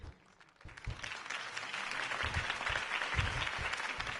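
A crowd in the Telltale Batman video game applauds a campaign speech, a steady wash of clapping that swells in after a quiet start and holds at moderate loudness.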